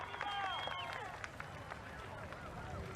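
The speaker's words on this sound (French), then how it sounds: "Regardez ce monde pour applaudir les 5 coureurs de tête" Roadside spectators at a Tour de France stage applaud five breakaway riders, a crowd's scattered clapping and cheering heard beneath a commentator's steady voice.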